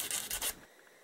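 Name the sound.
filing gel nail tips with a nail file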